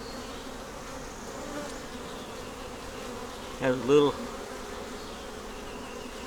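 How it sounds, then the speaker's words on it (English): Honeybees buzzing in an open hive during an inspection: a steady, close, dense hum that swells briefly louder midway, with a few quiet spoken words. "older bees in there."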